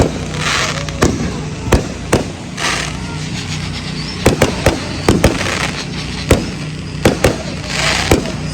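Repeated fireworks bursts, sharp bangs at irregular intervals with some in quick clusters, over a constant loud background rumble and crackle.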